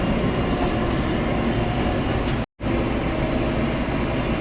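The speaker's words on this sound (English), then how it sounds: "we're on the move with some hay, and we'll chug across the farm" A farm vehicle, probably a tractor, hauls hay across an alfalfa field in Montana, giving a steady, loud, continuous rumble with a brief total dropout midway and no talk.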